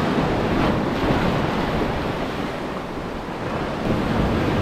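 Waves wash continuously over a rocky shore at Gotheeswaram Beach in Kozhikode, a steady roaring surf with gusty wind buffeting the microphone and no voices.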